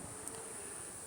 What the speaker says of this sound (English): I can actually hear the frogs chirping